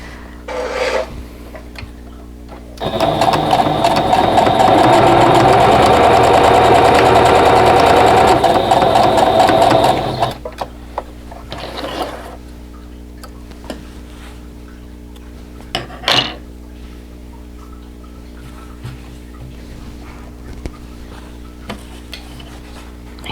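A sewing machine stitches quilt block pieces together with a quarter-inch seam, running steadily and loudly for about seven seconds up close, then falls quiet apart from a few small handling clicks.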